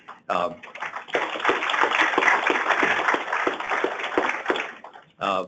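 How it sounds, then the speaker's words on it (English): Sustained applause from a crowd, dense clapping that swells quickly and holds steady for several seconds, with a brief voice at each end. "give a round of applause to the group that we have today"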